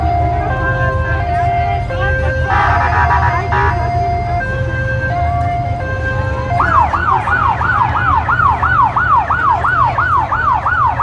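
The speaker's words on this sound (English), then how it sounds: "I don't know if you can hear me over the sirens" Emergency vehicle sirens wail at a city street event in Seattle, first in stepped alternating tones and then a rapid rising-falling yelp, loud and near over traffic rumble, with a voice talking faintly underneath.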